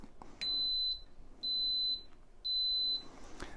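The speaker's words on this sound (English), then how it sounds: "it will beep at you to tell you that it's ready" Three long, steady electronic beeps from an Instant Pot pressure cooker making yogurt sound at even intervals, each lasting about half a second, over quiet room hum.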